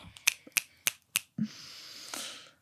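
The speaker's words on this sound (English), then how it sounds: "We don't clap in the spiritual community, we snap." Four crisp finger snaps sound in an even rhythm, close and clear, followed by a soft breathy hiss in a quiet podcast setting.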